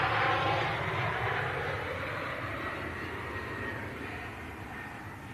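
A TUI Boeing 737 arriving from Marrakesh at Manchester Airport makes a broad, rushing engine roar that is loudest at the start and slowly fades as it passes.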